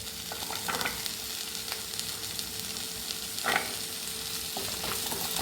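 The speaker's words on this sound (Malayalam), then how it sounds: "അത് നമുക്കിതിലേക്ക് ഇട്ട് കൊടുത്ത് നന്നായി ഇളക്കി കൊടുക്കുക" Diced potatoes and carrots fry with onion in a chicken stew pot, a steady close sizzle broken by a few scraping stirs, with no talk.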